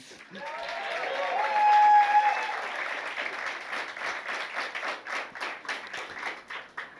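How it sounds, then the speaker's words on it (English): A crowd applauds steadily after a story about landing a job, with a sustained whooping cheer rising early and the clapping thinning into scattered claps toward the end. "Applause, please."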